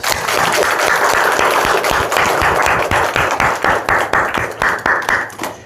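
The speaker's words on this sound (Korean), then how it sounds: "이 예배를 받으시는 하나님께 우리 영광의 박수 한번 올려주세요." Church congregation clapping together during a Sunday morning worship service, starting as a loud, dense burst of applause that thins into distinct, rhythmic claps toward the end.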